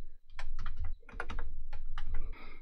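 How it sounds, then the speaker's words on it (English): A name being typed on a computer keyboard at a Linux command line: quick, close clusters of key clicks in an uneven rhythm, fairly loud and alone, with no talk. "All we have to do is type out a name."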